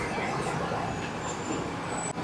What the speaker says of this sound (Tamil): பாருங்கள், டபுள் டெக்கர் பஸ்